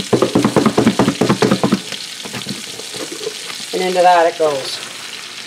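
Stew beef dredge hits sunflower oil and butter in a skillet, giving a close, steady sizzle at the start, with someone talking over parts of it.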